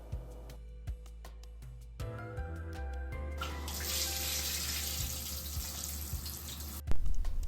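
Water runs steadily from a tap into a filling bathtub, a continuous close rush that grows fuller partway through, with a few knocks and splashes and no voices.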